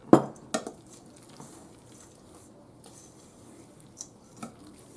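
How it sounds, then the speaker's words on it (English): A bowl of seasoning coating with Italian seasoning, salt and pepper is mixed for homemade chicken patties: a few sharp utensil clinks against the bowl, then soft, quiet scraping and stirring. "Now we're just going to mix this all up."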